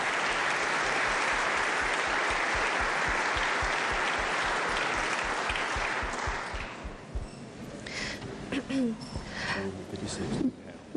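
Applause in the West Virginia Legislature chamber, a loud steady round of clapping from a large crowd that fades out after about seven seconds into quieter room sounds and a few scattered noises.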